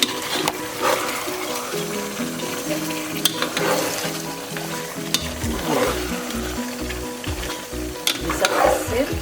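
Chicken qorma with red chilli and garam masala stirred in a hot pan, loud continuous sizzling broken by repeated scraping strokes of the spoon and occasional clacks, with no talking.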